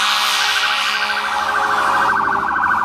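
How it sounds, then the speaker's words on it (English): Fire engine and ambulance sirens pass on a street, a loud, steady wailing tone that rises and falls. "I just saw 2 fire engines and an ambulance."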